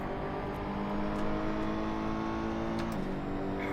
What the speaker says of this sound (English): I think this game sucks at the sounds of some cars.